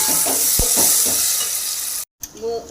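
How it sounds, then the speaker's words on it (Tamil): Onions and tomatoes sauté in a pan for drumstick and brinjal sambar with a loud, steady sizzle and a few stirring scrapes, briefly cut off near the end before the sizzling resumes. "வெங்காயம் தக்காளி வதங்கிச்சுங்க."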